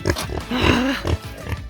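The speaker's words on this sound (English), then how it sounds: "Piggy pigs!" Pigs at feeding time, grunting and snuffling close by in short rough bursts with a brief higher squeal in the middle, no talking.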